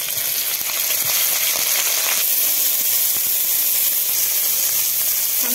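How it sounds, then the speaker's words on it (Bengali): Cauliflower pieces fry in hot mustard oil in a pan, giving a loud, steady, close sizzle with a continuous hiss and occasional crackles, and no talking. "ফুলকপিগুলো এখন ভেজে নেব।"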